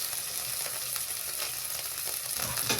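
Fish fries in hot oil with a loud, continuous crackling sizzle, close and unbroken, with faint spatters rising near the end.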